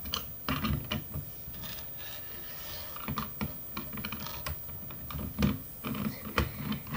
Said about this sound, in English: So, first, I gotta take out the screws.